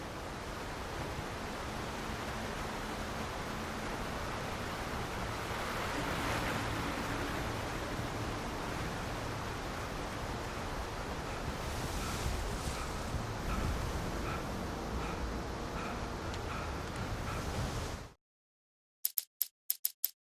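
River water flowing in the video game Alan Wake Remastered: a steady, dense rushing wash that holds level for about eighteen seconds, then cuts off abruptly, followed by a few faint clicks.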